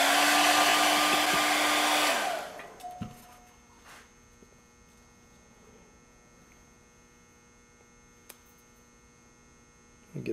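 A hair dryer drying latex makeup for a witch stretch-and-stipple effect roars loudly up close for about two seconds, then cuts off, leaving a faint electrical hum and near silence.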